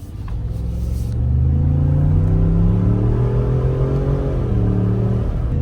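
A 2024 Ford F-150 Platinum pickup with a 3.5-liter twin-turbo engine and 10-speed transmission accelerates hard, its engine rumble climbing steadily in pitch through the gears, loud and close with no talking.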